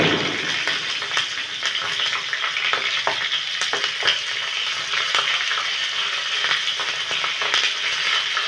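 Cumin seeds and green chili tempering in hot oil for dhokla, a steady loud crackling sizzle with sharp pops scattered throughout, heard alone.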